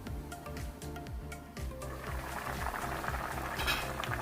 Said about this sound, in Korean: 다시마 육수 800ml를 붓고 뚜껑을 닫은 후 중불에서 10분간 끓여줍니다.